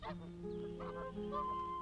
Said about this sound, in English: Canada geese are already starting incubation